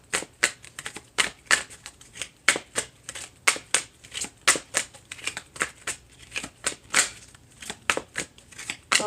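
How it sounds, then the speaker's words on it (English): Tarot cards are shuffled by hand in quick, repeated riffling bursts, close and crisp, a steady flicking rhythm with no talking. "Now let's see, shuffle these up."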